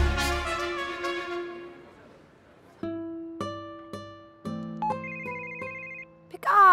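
A phone ringtone plays during an outgoing call in an animated comedy film: a clear sequence of electronic melodic tones, loud and close, stepping through several pitches with short pauses between notes.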